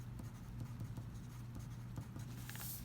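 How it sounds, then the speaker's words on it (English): Pen or pencil writing labels on a paper tempera paint value scale, a quiet close scratching of short strokes over a low steady hum, with no talk. "So over here I'm going to write tint"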